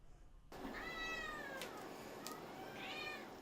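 Cats at a feline shelter meow in a few drawn-out, wavering calls, close and clear over a soft room background.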